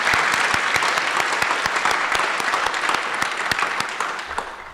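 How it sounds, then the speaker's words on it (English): Audience at a flight academy graduation ceremony applauds the flight instructors, a dense steady clapping that fills the room with a few sharper individual claps standing out, tapering slightly at the end. "Yeah, we should clap for them."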